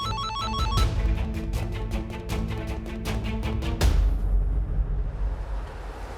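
A telephone ringtone rings in a repeating electronic pattern for several seconds, then cuts off, leaving background noise.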